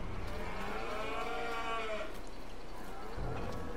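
Cattle in Farming Simulator 22 moo in a long drawn-out call with harmonic tone, then a shorter second low, set against a steady farm-yard background with no talk.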